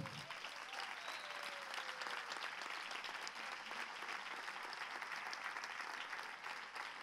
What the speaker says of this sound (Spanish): Damas y caballeros, demos un aplauso a Dios por mi esposa,